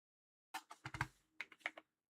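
Several quick, close keystrokes on a computer keyboard come in two short bursts, with a brief pause between them, and the clicks sound fairly quiet.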